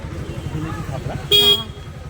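A single car horn blasts loudly for about a quarter second on a busy street, sounding over passing traffic and nearby conversation.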